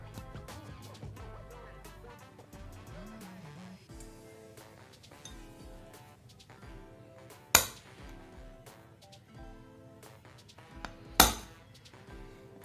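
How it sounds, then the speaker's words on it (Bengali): A center punch is struck against a metal drone frame for a homemade 450mm quadcopter, two sharp isolated metallic hits several seconds apart over quiet background music. "এখানে সেন্টার পাঞ্চ করে নেব আমি"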